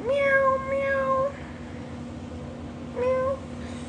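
Two synthetic cat meows play as a livestream gift effect, a drawn-out first meow followed after a pause by a shorter second one, clear and close over a steady faint hum.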